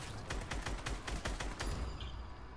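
Rapid gunfire in a Fortnite zombies video game, a steady burst of evenly spaced shots running nearly the whole time, loud and dense with no talking.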